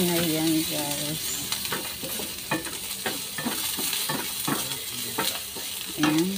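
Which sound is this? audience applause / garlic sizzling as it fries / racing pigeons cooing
garlic sizzling as it fries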